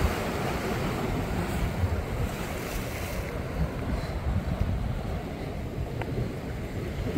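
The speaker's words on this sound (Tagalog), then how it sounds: "Ganda ng alon, pakinggan." Ocean waves wash onto the rocky beach at John Smith's Bay in Bermuda as a continuous, loud surf roar with heavy wind buffeting the microphone and no voices.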